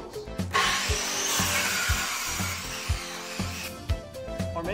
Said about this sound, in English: Maybe you want to work with power tools.